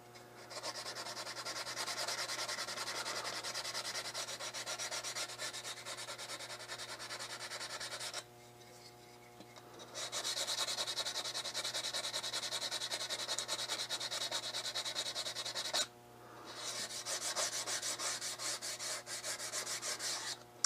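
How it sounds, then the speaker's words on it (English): Steady scratchy rasp of hand sanding nicks out of a wooden gun stock, continuous strokes with two brief pauses, close and fairly loud, no talking. "besides me sanding out these nicks"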